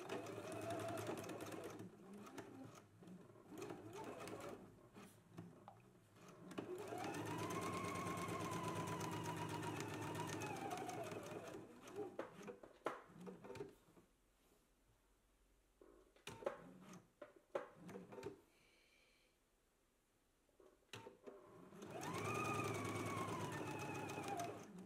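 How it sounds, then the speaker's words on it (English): A sewing machine stitches along the seam line of a pocket in steady whirring runs, pausing between passes with small clicks and handling sounds before starting up again, close and moderately loud. "Now we can go to the sewing machine, and we are going to stitch along the seam line all the way along the pocket"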